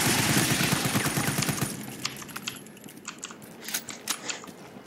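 Gunfire in Resident Evil 3 Remake, with a dense burst of rapid shots giving way to scattered sharp cracks and clicks that taper to a quieter background.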